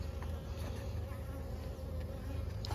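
Honey bees buzz steadily around a wax-dipped cedar hive during a strong honey flow, a close, continuous droning hum with no talk.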